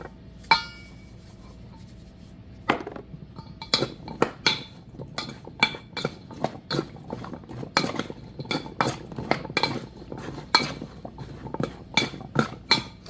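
Spoon clinking and scraping against a bowl while seasoning is mixed in, a dense, uneven run of sharp close taps and knocks that continues steadily throughout, with no talking.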